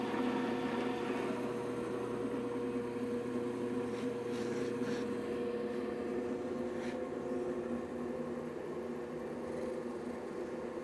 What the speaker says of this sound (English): Let's go ahead and punch a hole at a low RPM.